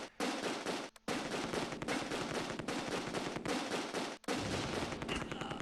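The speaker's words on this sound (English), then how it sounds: "he's shooting with a pistol in there" Pistol gunfire and other small-arms fire in the World War II strategy game Close Combat II, during a battle at Nijmegen Bridge: dense, continuous loud shooting with two brief gaps.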